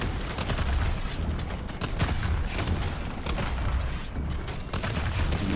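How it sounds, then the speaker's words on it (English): Dense, continuous bursts of explosions and rapid blasts fill a video game battle, a steady barrage of crackling booms with no pauses and no talking. "All the explosions."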